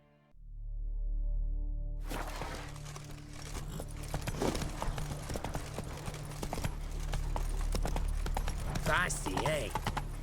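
Roach, Geralt's horse in The Witcher 3, trots along with steady rhythmic clip-clop hoofbeats over a low droning game ambience, with a voice speaking over the hooves.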